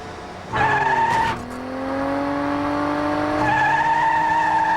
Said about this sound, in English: Inside, I'm going to be driving an Indy car, which is a very fast racer.